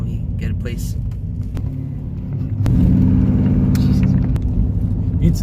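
Rear-wheel-drive car pulling away under throttle: a low engine rumble idles, then rises sharply in loudness and pitch midway as it accelerates, holding a strong drone to the end, with faint voices early on.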